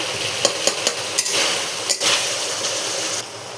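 A masala of tomato, turmeric, salt and sugar fries and is stirred in a pan, with a steady broadband sizzle and a few sharp spoon scrapes and clicks early on, close and continuous, with no voices.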